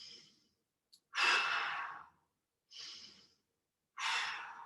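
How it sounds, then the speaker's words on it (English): Deep, forceful breaths during a strength workout session, three long breathy exhales in a slow rhythm with short pauses between, close and fairly loud with no talking. "2 more big breaths."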